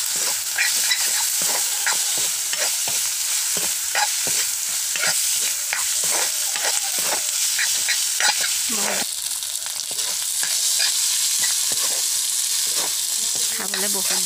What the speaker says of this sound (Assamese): ভাত আৰু মাছৰ পেটুৰে জ্বালা ভাজি